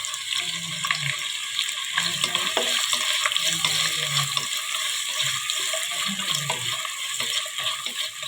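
Sliced onions and green chilies sizzle in a pan for chicken biryani, with a steady hiss of frying and intermittent scraping and stirring.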